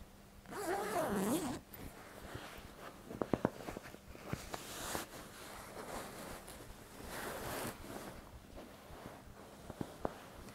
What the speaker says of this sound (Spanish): la exterior tiene una cremallera para desenfundarla fácilmente.